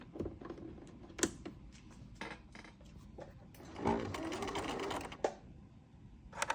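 Home sewing machine starting up and stitching through fabric, short mechanical bursts and clicks building into a steadier whir around the middle, fairly quiet and close with no talk.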